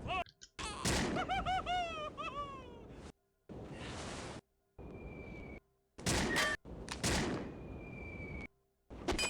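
Video game gunfire bursting out in several loud, short volleys with gaps between, mixed with whining, meow-like tonal cries.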